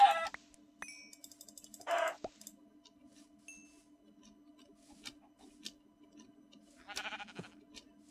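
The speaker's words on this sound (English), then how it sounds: "The first chicken I've seen in this play." A chicken in the video game Minecraft clucks in short, separate bursts spaced a few seconds apart, with quiet game sounds between them and no voices.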